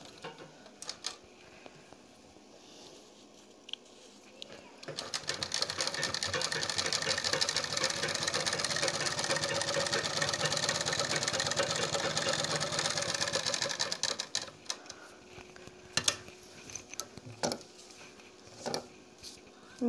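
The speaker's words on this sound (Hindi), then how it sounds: "मैं भी बीच की सिलाई लगा रही हूँ।" A sewing machine stitches a suit neckline in one steady whirring run of about ten seconds, close and fairly loud, framed by quieter handling noises before and after.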